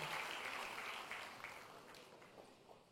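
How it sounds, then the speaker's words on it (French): Audience applause inside a church, a dense hiss of many hands clapping that fades gradually over a few seconds, heard from a distance. "donner un bel applaudissement à tous ces gens incroyables qui nous servent semaine après semaine"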